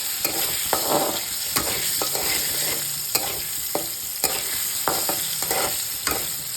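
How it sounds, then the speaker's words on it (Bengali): Diced potatoes sizzle steadily in hot oil with salt and turmeric for jackfruit curry, while a spatula scrapes and stirs the pan every second or so with sharp clicks and scrapes. "আলুগুলো ভাজা হতে থাক"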